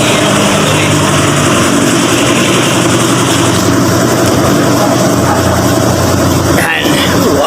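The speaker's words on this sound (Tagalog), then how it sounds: "Okay, paandarin na natin si Belos." A 2024 Toyota Veloz engine starts and idles with a steady, loud broadband roar that holds throughout, with a brief clunk near the end.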